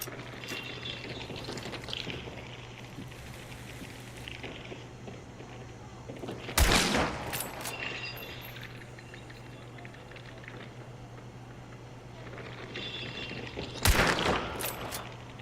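Two sharp, loud gunshots from the 1896-era shooter game Hunt: Showdown ring out about seven seconds apart over a low steady hum and faint ambient background.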